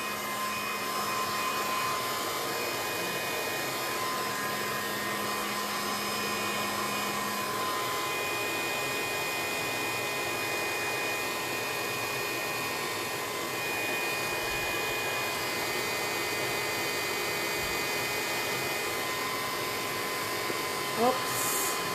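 A hair dryer runs steadily to dry a mixed media painting before gesso goes on, giving a continuous, fairly loud airy whoosh that holds for the whole stretch with little change.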